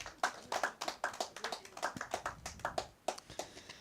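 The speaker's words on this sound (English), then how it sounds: "Big round of applause for that guy." A small open-mic audience at the Duncan Showroom claps in a sparse, uneven patter of separate hand claps, fairly close and moderately loud, lasting several seconds.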